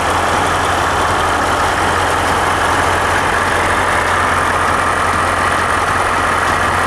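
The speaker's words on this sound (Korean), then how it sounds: "엔진 소리 일정합니다." A fourth-generation Land Rover Range Rover 4.4 SDV8 diesel V8 engine idles steadily and loudly, a constant low rumble with a continuous hum that never changes pace.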